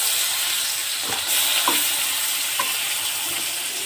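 Food fries in oil in a pan over lowered heat, giving a continuous loud sizzle with a few faint stirring scrapes; no one speaks.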